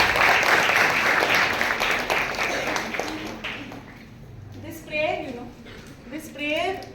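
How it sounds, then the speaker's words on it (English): Audience at a communication skills workshop for girls clapping, a dense burst of many hands that fades after a few seconds, followed by someone speaking. "And clap for yourself."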